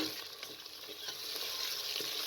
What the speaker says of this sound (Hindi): गोश्त को आपने तकरीबन 5 से 7 मिनट तक भून लेना है ताकि इसका कलर जो है वो चेंज हो जाए